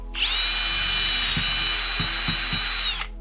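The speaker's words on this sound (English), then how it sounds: "I think with this drill bit, I might be able to get all the way through." A power drill whines continuously for about three seconds at close range, boring through a plastic 5-gallon bucket, with a few knocks underneath before it stops.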